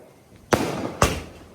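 Diwali firecrackers go off in two sharp, loud bangs about half a second apart, each trailing off into a brief crackling decay outdoors.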